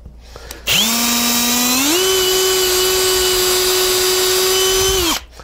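A power drill drives a countersinking screw into a wood panel in a woodworking shop, one loud sustained whine that climbs in pitch partway through before spinning down.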